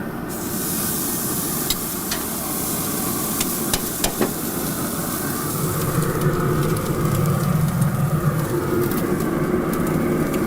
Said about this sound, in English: Now with the frame broiler still being open, we're going to place our steak and we're going to get some color on it.